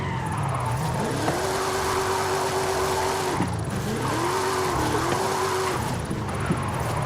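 A car drifts in Forza Horizon 5, played on a Fanatec ClubSport RS steering wheel, its engine note rising and holding in two long sweeps with tire noise underneath, steady and close.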